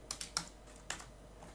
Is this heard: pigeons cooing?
no